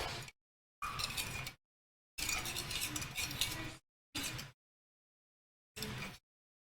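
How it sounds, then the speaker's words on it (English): A spoon stirring tea in a cup, heard as short separate bursts of clinking and scraping broken by silences, close up and without voices. "Stir the tea up."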